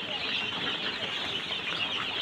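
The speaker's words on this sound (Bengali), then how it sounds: "এগুলা মিশরি ফাওমি এবং টাইগার মুরগির বাচ্চা" Two-day-old Egyptian Fayoumi and Tiger chicken chicks peep and cheep continuously in a dense chorus, a steady close-up chatter of many young birds.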